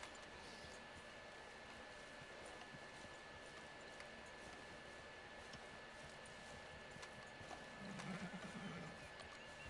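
A horse in the video game Red Dead Redemption 2, with steady hoof clip-clops over a constant outdoor ambience and a short neigh or whinny rising near the end.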